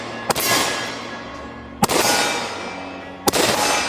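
Small-calibre rifle firing three sharp shots, evenly spaced about a second and a half apart, each a loud close crack followed by a ringing decay.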